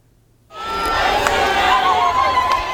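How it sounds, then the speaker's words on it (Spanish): Hundreds of young people shout and sing in a loud, sustained cheer of welcome for Pope Francis at a hospital outside Maputo, Mozambique, the roar swelling in abruptly and holding steady, with no distinct voices standing out. "Con canciones y gritos, cientos de jóvenes recibieron al Papa Francisco en el hospital de Simpeto"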